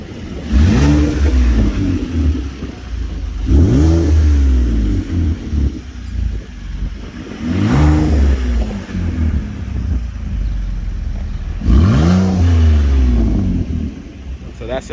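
A car with a nature delete exhaust revs hard in four loud, raspy bursts, each rising then falling back to a rumbling idle, close to the listener.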